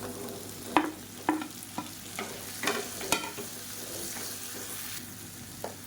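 Chopped tomatoes being stirred into softened onions frying in a pan for chutney, with quiet sizzling and several scraping spoon strokes at irregular intervals, close and fairly soft, no talking.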